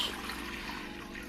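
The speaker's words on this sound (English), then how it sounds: "the first step is to add your water into a large" Water pouring into a large pot on a home kitchen stove while making lentil soup, a steady trickling splash heard close and alone for a brief moment.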